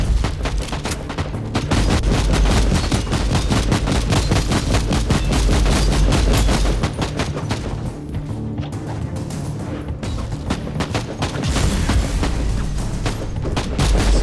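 An area effect weapon strikes in the game Inquisitor Martyr: a loud, dense barrage of booming blasts and rapid gunfire-like cracks rolls on without pause for the whole stretch, with no voices.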